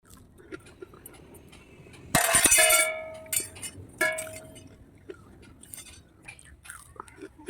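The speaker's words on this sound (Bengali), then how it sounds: "সাউন্ড শুনেই বুঝতে পারছো কতটা ক্রিস্পি হয়েছে" Someone bites into a crispy onion stalk pakora, giving two loud, brittle crunches about two seconds apart, followed by softer chewing and small crackles close to the mic.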